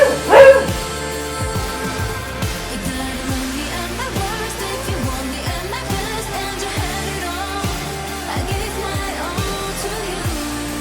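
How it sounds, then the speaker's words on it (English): A dog barks repeatedly in close, loud bursts over steady pop music playing in the background. "Oh, sorry. That's my dog."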